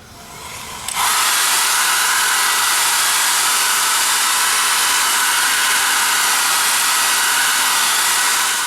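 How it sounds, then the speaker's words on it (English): A blow dryer heats a motorcycle wedge badge on a Victory bike. After a soft start, the dryer kicks up about a second in to a loud, steady, close whooshing roar that holds to the end, with no speech. "take a blow dryer and warm up the wedge badge itself"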